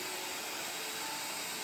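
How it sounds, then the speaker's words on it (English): A hair dryer heating a plastic TV remote runs as a steady, even airy whoosh with a faint motor whine, continuous and close, with no other sounds. "Heat up the TV remote a little with a hair dryer."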